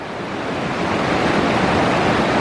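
A fast river lined with fallen trees on a backpacking trail rushes loudly and steadily, a dense broadband roar that swells slightly and holds, close to the listener with no voices.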